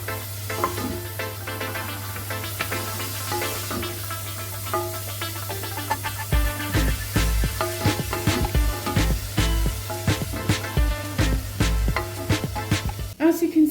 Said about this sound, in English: heat a tablespoon of sunflower oil in a pan over a medium heat, and we'll pop the onion in once it's heated up nicely